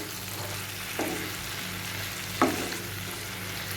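Kakrol paturi frying over a low flame as tomato ketchup is mixed in, a steady soft sizzle broken by two brief scraping stirs of a spoon in the pan.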